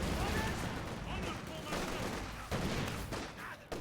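Light machine gun fire crackles in Company of Heroes 2, dense bursts of gunshots from several LMGs clattering over a battlefield backdrop for a few seconds.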